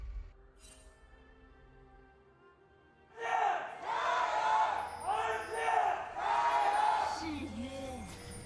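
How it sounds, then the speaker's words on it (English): Arena crowd at an LPL spring 2021 esports match in Hongqiao, RNG versus EDG, swelling into loud sustained cheering and shouting after a quieter stretch, with rising waves of roaring voices. "Have a crowd back in the arena in Hongqiao"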